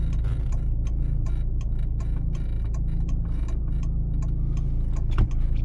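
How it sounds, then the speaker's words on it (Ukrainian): A car's right turn indicator ticks in a steady, even rhythm during a driving exam route in Dnipro, with a low engine hum running underneath and a single louder knock near the end. "вмикнули правий покажчик повороту і обережненько виїжджаємо"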